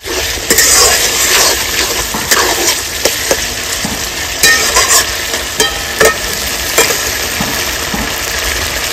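Sizzling and stirring of a spice paste in a pan after a splash of water is added while the masala is cooked down for a village-style mutton curry; loud, continuous frying hiss with repeated sharp scraping clicks.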